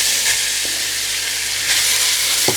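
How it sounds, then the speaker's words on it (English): Onions frying in oil for a lamb and turnip curry, a steady close sizzle and hiss with a few faint stirring scrapes, heard on its own. "we're going to fry our onions until they're nice and golden brown in colour"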